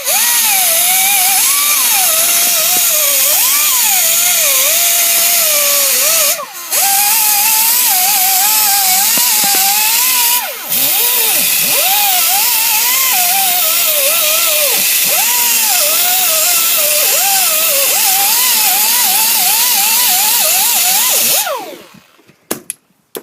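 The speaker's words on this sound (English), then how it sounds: "is just get a die grinder with a lovely little brush on the end" A die grinder fitted with a small wire brush cleans a wheel hub, a loud, continuous high-pitched whine with wavering pitch as it loads against the metal, briefly dipping twice before stopping near the end.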